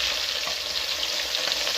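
Fish fried in hot oil, a steady close hiss and crackle of sizzling filling the brief moment with no voices.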